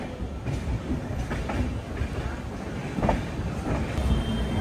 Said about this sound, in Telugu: ఇటుపక్క ఏదో ట్రైన్ ఉంది.